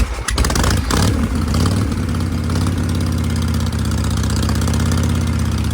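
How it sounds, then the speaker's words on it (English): Harley Lowrider motorcycle engine kick-starts with a rough catch, then settles into a steady, loud, close idle with a low throbbing rumble that runs throughout. "Didn't sound too happy, but it did fire off on the first kick"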